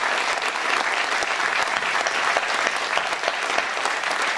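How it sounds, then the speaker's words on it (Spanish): A hall audience at the Sala Solidaridad in Buenos Aires bursts into dense, continuous applause to welcome Abel Prieto, many hands clapping evenly and loudly throughout with no voices rising above it. "nos acompaña Abel Prieto, que bueno, es un gran aplauso."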